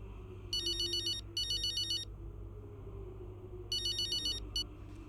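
Phone ringtone trilling in EA Sports Braking Point, two electronic rings, a pause, then two more, the last cut short, over a low background hum.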